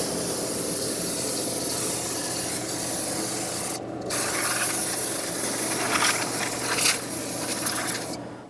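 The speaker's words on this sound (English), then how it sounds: "rinse everything, including the shoes and the hub, with brake parts cleaner" Brake parts cleaner sprayed onto the rear brake hub and shoes of a 2018-2023 Subaru Crosstrek, a steady close hissing spray lasting several seconds with brief pauses between bursts.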